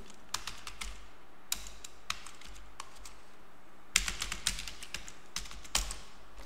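Keys clacking on a computer keyboard as a command is typed into a terminal, quiet close-up taps in irregular bursts with a faster flurry near the end.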